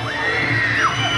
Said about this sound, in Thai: โอ้โหเสียงกรี๊ดนี่แน่นฮอเลยครับ